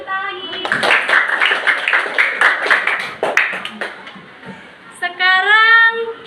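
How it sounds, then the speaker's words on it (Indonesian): Children in a classroom clapping in rhythmic bursts, loud and close for a few seconds, then fading as voices, including a child's, take over. "Tepuk tangan lagi."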